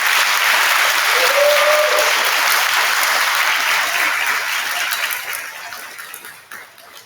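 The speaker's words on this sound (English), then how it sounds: "Let's give a round of applause for Miss Chase's class." An audience applauds at a kindergarten awards program. The clapping is loud and dense, holds steady, then tapers and thins out toward the end.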